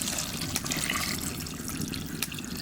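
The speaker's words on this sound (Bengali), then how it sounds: "এবার জল দিয়ে দেবো" Water poured into a cooking pot while making Bengali ghugni, a steady continuous splashing rush that fills the whole stretch at moderate loudness, with no talking.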